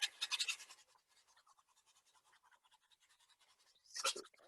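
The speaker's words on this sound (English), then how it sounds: "Come back and finish it off with dry brush and I'll get texture." A dry brush scratching over watercolour paper to add texture, heard as faint, quick, bristly scrubbing strokes, louder at the start, dropping to soft rhythmic scratches, then one brief louder burst.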